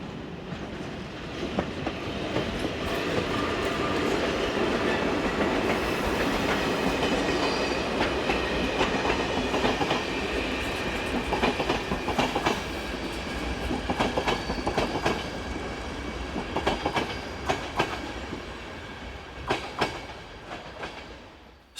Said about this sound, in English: The train is the 1508 departure from Plzeň to Nepomuk, headed by Plzeň-based